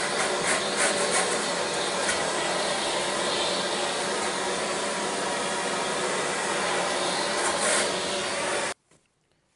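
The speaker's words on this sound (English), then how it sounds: "once you've done your hoovering up" A vacuum cleaner drones loudly and steadily while hoovering a room during radiator preparation, with slight shifts in pitch as it moves, then cuts off abruptly near the end, leaving quiet.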